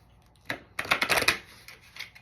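A deck of oracle cards is shuffled by hand in a quiet room, a quick burst of riffling and papery flicks in several close, crisp pulses, then a few softer slaps as the cards settle.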